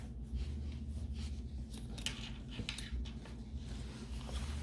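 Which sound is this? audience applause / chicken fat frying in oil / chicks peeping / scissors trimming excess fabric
scissors trimming excess fabric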